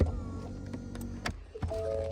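Rear parking brake on a 2021 Ford Expedition releasing, a faint motorized whirr with a couple of soft mechanical clunks near the end, heard close up with no talking.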